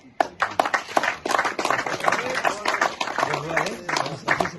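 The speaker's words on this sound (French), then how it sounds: "on peut applaudir" Audience at a French company awards ceremony claps in sharp, uneven bursts, individual hand claps ringing out over a steady patter, with a voice talking through parts of it.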